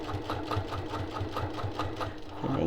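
A sewing machine top stitching a boxed zipper pouch runs in a quick, steady rhythmic whir for a couple of seconds, close and moderately quiet, before stopping abruptly.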